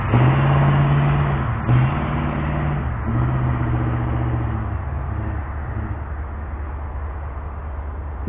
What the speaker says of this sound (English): Notice how he dipped his car at my house and then crossed the street and then back again.